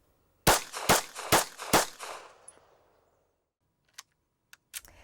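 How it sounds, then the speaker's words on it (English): Four sharp, evenly spaced gunshots in a shooting drill, two each on a right and left target, loud and close with a fading echo, then faint clicks afterward. "For strings 1, 2, and 3, I'm shooting 2 shots on the right target and 2 shots on the left target."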